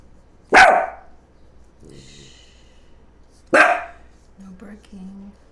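A dog barks twice, each a single loud, close bark separated by a few seconds of quiet, with faint voices and small background noises in between.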